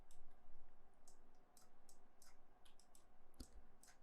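Computer mouse clicks while editing in node-based software, a string of small sharp ticks at an uneven pace, close but quiet over a low steady hum, with one slightly stronger click near the end.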